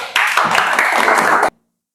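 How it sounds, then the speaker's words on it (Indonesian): Classroom applause breaks out after a teacher's prompt during an Islamic religious education lesson, a burst of many hands clapping for over a second and then stopping abruptly into silence. "Tepuk tangan dong."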